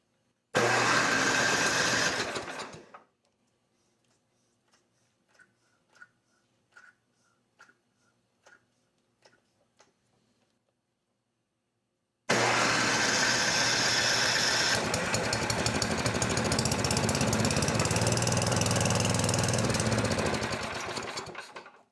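A revived snow blower engine with wet exhaust roars loudly and close for a few seconds, then cuts out, leaving a stretch of faint scattered clicks before the engine bursts back to a steady, loud run.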